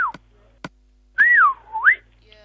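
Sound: person whistling into the microphone

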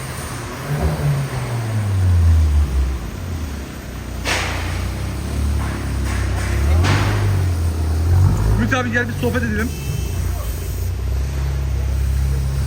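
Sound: Cupra Formentor 1.5 TSI engine with dump pipe exhaust

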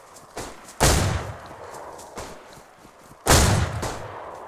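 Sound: gunfire in the video game DayZ on Namalsk

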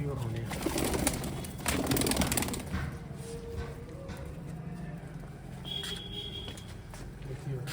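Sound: pigeons cooing

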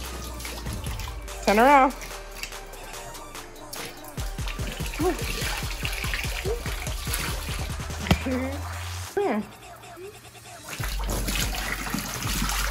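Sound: water rinsing slime off a person

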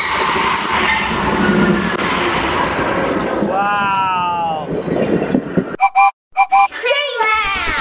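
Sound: Amtrak passenger train at station

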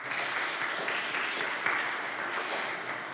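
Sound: conference audience applause

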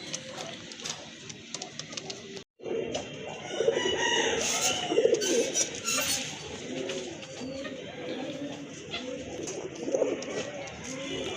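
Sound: tiger-coloured pigeons cooing

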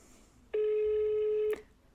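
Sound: telephone ringing

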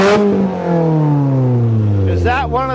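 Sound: Toyota GTS engine revving with fart can exhaust

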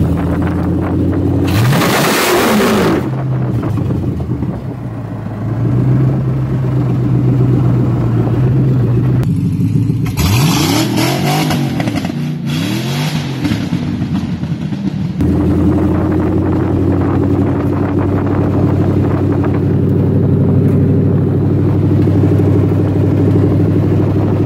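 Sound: LS-swapped Mazda FD RX-7 engine with wheel spin

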